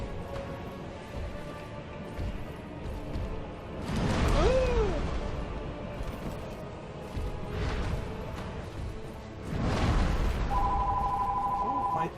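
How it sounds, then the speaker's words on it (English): A telephone rings during a Dark Souls boss fight, a steady electronic ring emerging late and sounding over loud game effects, whooshes and booms. "My telephone is ringing."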